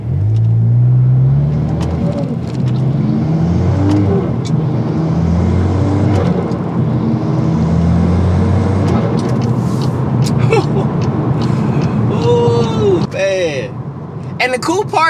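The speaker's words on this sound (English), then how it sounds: "the sound of that turbo and that shoo every time you shift" A loud turbocharged Volkswagen Golf R Mk8 engine revs hard and climbs through the gears, its pitch rising and dropping at each shift, with a brief turbo hissing whoosh near the end.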